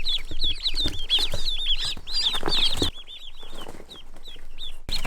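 A crowd of Pekin ducklings peeps rapidly and constantly, high-pitched and close, with shuffling and rustling beneath, thinning out toward the end.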